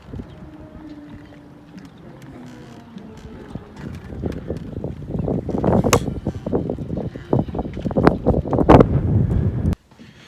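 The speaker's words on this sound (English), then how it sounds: "of course the wind comes up, probably obscuring the sounds it was making" Gusting wind at Stonington Harbor buffets the microphone, starting gently and building into loud, rough rumbling blasts that end abruptly, with faint distant music beneath.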